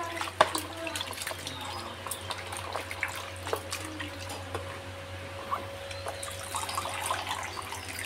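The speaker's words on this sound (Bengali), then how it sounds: "এইভাবে ভালো করে বেশি বেশি করে জল দিয়ে এইভাবে ধুতে হবে।" Bottle gourd shoots are washed under plenty of running water, a low steady flow with small splashes and clatters close by, continuous throughout with a faint hum underneath.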